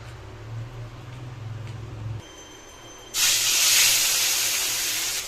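Cut rohu fish pieces frying in hot oil, a low hum giving way to a loud, steady hiss that starts midway and holds to the end with no talk.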